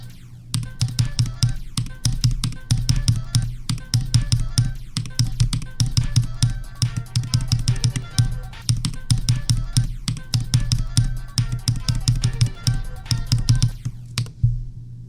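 Fast, continuous typing on a computer keyboard, loud and close, with dense rapid key clacks running almost without pause for about fourteen seconds before stopping.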